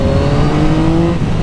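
A 2021 Yamaha MT-09 motorcycle accelerating hard, its engine loud and close with a rising, steady drone and strong rumbling tones throughout.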